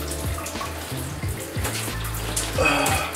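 A shower stream splashes steadily as conditioner is rinsed out of hair, with a close, continuous wash of water and small dripping patters and no voices.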